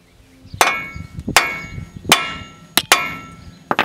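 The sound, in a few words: hammer knocking on truck center couplers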